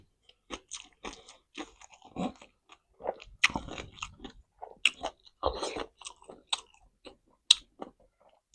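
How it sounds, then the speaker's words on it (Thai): Close, loud chewing of crunchy pork tendons, with irregular sharp crunches and bites spread across the whole stretch, separated by brief quiet gaps. "เอ็นใหญ่ๆกรุบกรุบ"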